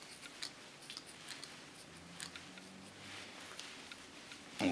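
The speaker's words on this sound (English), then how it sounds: "This is a slice cutting technique." Scissors slice-cutting through hair during a pixie cut, giving soft, quiet snipping and sliding strokes spaced through the moment, close up and faint.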